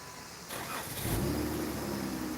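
A car engine stumbling and stalling out, starting as a faint rumble before a louder burst of engine noise that settles into a rough, steady drone.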